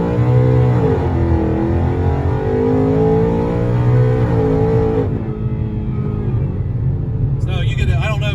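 Drag car fitted with a new Whipple supercharger launches and accelerates hard, loud engine roar climbing through revs with some wheelspin, then a shift cutting the sound before it builds again, close and dominant throughout.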